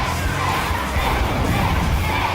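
A Robot Wars arena crowd roars and cheers in a dense, steady wash of noise at a featherweight championship bout, loud and continuous with no break.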